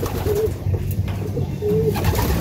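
A racing pigeon coos close by in two soft, rounded phrases, with a low rumbling background and no talking.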